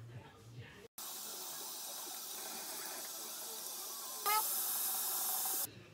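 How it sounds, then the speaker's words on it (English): Tap water runs steadily into a sink while someone washes their face at home. The hiss of flow is continuous and close and swells briefly near the end before the water cuts off. "Wash my face first with this pond."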